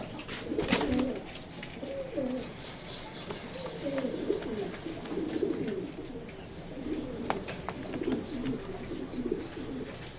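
Big checker pigeons in a loft coo in steady repeated low phrases throughout, with faint chirps from other birds in the background.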